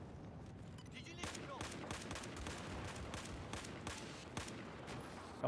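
Gunfire in the Battlefield 4 video game rings out as a series of sharp, rapid shots and bursts over a steady background rumble, fairly faint and mid-distance, with no clear talking.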